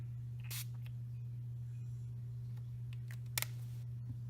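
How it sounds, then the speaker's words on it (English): Distress ink spray mists onto saturated paper in two short, soft hissing bursts, quiet against a steady low electrical hum. "then I'm going to take some of my sprays"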